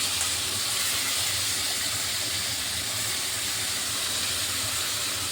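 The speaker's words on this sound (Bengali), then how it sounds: "উচ্ছেটা আমি একটু হালকা ভেজে নিচ্ছি।" Salted bitter gourd frying lightly in hot oil makes a constant, fairly quiet hiss with no breaks or voices.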